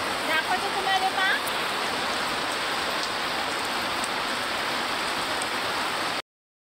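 Irrigation water flows heavily across a farm field, a steady broad rushing wash like hard rain, with a few faint chirps near the start before it cuts off abruptly.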